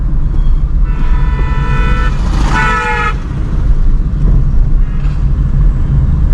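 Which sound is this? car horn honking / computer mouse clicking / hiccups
car horn honking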